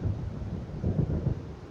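Low rumbling thunder from an approaching storm in the Alan Wake game, rolling continuously with a couple of swelling peaks, mixed with wind-like noise and no talk.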